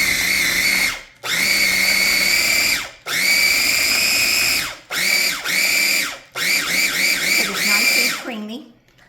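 A blender or food processor whirs through a lemon and herb savory cheesecake filling in loud bursts, several long runs, then a series of shorter pulses separated by brief silences.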